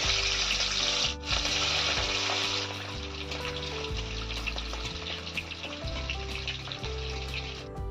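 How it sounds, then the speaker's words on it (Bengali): Rohu fish pieces frying in hot mustard oil in a kadai produce a loud, continuous close-up sizzle and crackle that holds steady for the whole stretch, with a faint tonal hum underneath and no speech. "তেলটা ভালো মতো গরম হয়ে গেছে, এবার আমি মাছগুলো ভেজে নেব।"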